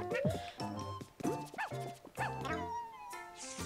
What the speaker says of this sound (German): Schleck mal dein Leben, Hund.